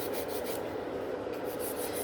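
A nail file scrapes back and forth over sculpted fiber gel nails, making a close, steady, soft abrasive rub with no pauses.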